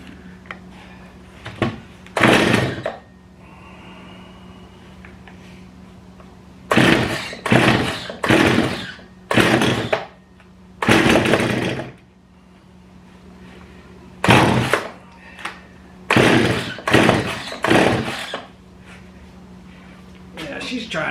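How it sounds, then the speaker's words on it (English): A Stihl 026 chainsaw, its carburetor primed with premix, is pull-started again and again: a series of short, loud, broadband bursts separated by pauses, the engine sputtering briefly without catching. "she's trying to fire over. She's trying to start"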